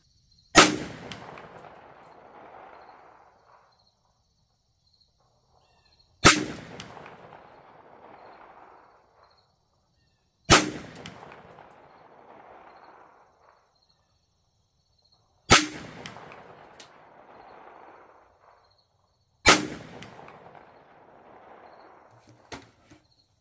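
Bear Creek Arsenal 16-inch 300 Blackout rifle firing 200-grain subsonic rounds at a 100-yard range: five loud, sharp shots spaced about four to five seconds apart, each followed by a rolling echo that fades before the next.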